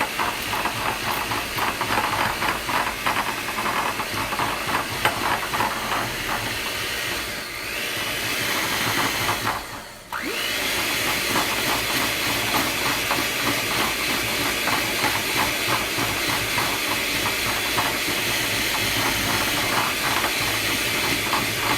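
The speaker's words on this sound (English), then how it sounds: "I'm going to whip it just a little bit more, but it's almost there." A kitchen stand mixer whips a small batch of edible cookie dough, giving a steady, loud whirring drone with a brief dip midway before it resumes, with no talking.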